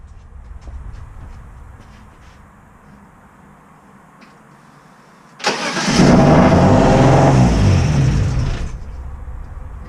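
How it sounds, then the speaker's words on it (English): A BMW E36 engine fitted with individual throttle bodies cranks and fires up, then settles into a loud, steady idle with a slight drop in level near the end, following a quiet lead-in. "start it, see how it idles with the vacuum ports closed off and everything"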